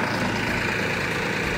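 A tractor engine runs steadily at idle, a continuous low rumble with no breaks, close by and heard alone.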